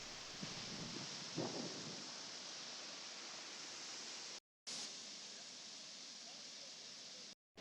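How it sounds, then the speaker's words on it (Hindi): A waterfall in Kerala gives off a steady, close, broadband rush of falling water that runs unbroken through the clip, apart from two brief total dropouts. "जैसे कि आप मेरे पीछे देख सकते हो, ये रहा वाटरफॉल।"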